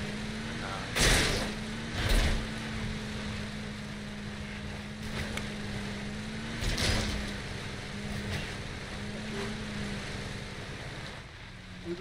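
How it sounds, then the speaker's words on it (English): Truck passing close by outdoors, a steady low engine rumble held throughout, with loud bursts of wind-like noise and talking over it. "Hear that truck right to our right?"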